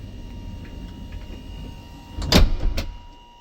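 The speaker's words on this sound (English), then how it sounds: "Door will shut." A wheelchair-accessible van's door closes automatically with a motorized whir that ends in a brief, loud mechanical thunk and a smaller knock, close by, with no talking.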